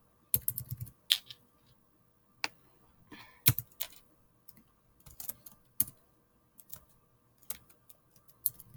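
Typing on a computer keyboard while entering a file name during a coding lesson: irregular bursts of close, crisp key clicks with short pauses between, and no talking.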